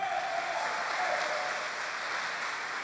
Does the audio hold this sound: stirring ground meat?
no